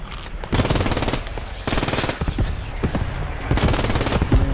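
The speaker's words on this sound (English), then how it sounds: "Accidentally shot one of our own guys." Loud, close machine-gun bursts in the Post Scriptum video game come in three long rapid volleys with short gaps between them, and faint voices sit under the firing.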